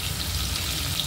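Curry leaves and ginger-garlic paste sizzle in hot oil as tempering for a surmai fish curry, a steady close crackle and hiss running evenly through the short moment without talk.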